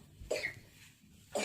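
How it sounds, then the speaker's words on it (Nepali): A person coughs twice, each a short, quiet, close burst about a second apart, with faint room sound between. "खोक्यो फेरि खोक्यो"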